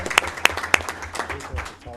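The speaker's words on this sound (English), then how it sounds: "Now, a thunderous round of applause" Applause at a public school board meeting, a few sharp claps standing out at the start before a softer scattered patter of hands, with faint talk mixed underneath.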